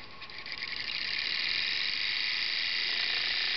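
A small, inexpensive electric motor with a 2-pole armature spinning up after a push start, then holding a steady, thin high whine that is fairly quiet and heard alone.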